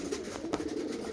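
Pigeons, including a white Pulsar pigeon, coo in a soft, continuous low murmur on a cloudy day, with a few brief brighter bursts from nearby birds.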